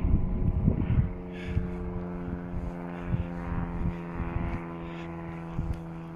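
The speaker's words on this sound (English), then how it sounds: "Airplane." Overhead, an airplane's faint, steady propeller drone hums with layered tonal harmonics, while intermittent low thumps and rustling sounds come from nearby on an outdoor walk near Valley of Rocks.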